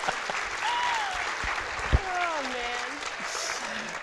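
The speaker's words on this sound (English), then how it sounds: "Let's give Diamond a round of applause." Audience applause fills a town hall show for teens, steady clapping under a few overlapping voices and whoops, with one sharp louder clap near the middle.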